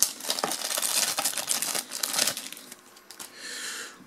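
A USB cable being unwrapped from its packaging: close, continuous crinkling and tearing of the wrapping with no voices.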